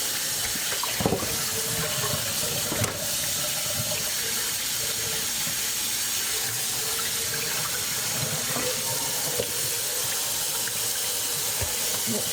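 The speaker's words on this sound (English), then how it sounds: "Run some cold water." Cold water running steadily from a kitchen tap to rinse a raw turkey, a constant close splashing rush with occasional knocks and clatter.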